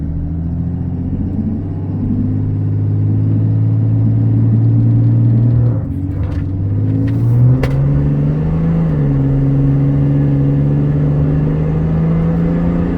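A diesel truck revs and accelerates hard from a standstill toward 60, a loud deep engine drone that climbs in pitch, drops briefly at a gear change and pulls again, heard from inside the cab.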